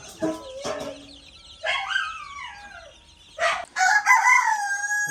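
Roosters of a native breed crow nearby, long rising and falling calls, with shorter squawks and clucks between them; a couple of crows overlap toward the end.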